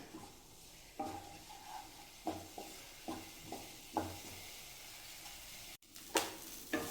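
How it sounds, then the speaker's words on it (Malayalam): Sesame seeds toast in a hot pan, crackling and popping in a series of short, sharp bursts over a faint background hiss, fairly close and with no one talking. "എള്ള് മൊരിഞ്ഞിട്ടുണ്ട് ശബ്ദം കേൾക്കുന്നുണ്ടോ നമ്മളെ കടു വറക്കുന്ന പോലെ ഒരു ശബ്ദം"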